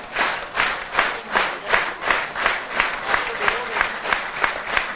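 A crowd at a national senior outdoor track and field championship claps in a steady, rhythmic beat for a long jumper's final jump, about two claps per second, moderately loud and even throughout.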